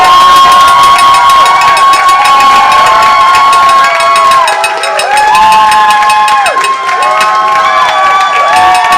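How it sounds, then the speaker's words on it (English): A game-show audience cheers loudly for the Geeks during a verdict vote, a dense, sustained crowd roar with high shouting voices and some children yelling, continuous and close throughout. "Let's hear it by audience applause. Do we hear it for the Geeks"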